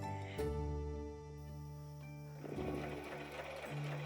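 Sewing machine stitching small quilt pieces for an alphabet quilt blanket, a steady whirring hum close up that speeds up and changes pitch partway through, with no talking.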